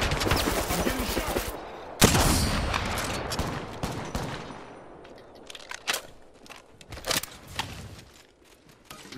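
Rapid gunfire bursts from an Apex Legends match, loud at first and then coming in shorter, sharper volleys, with a voice speaking over the shooting.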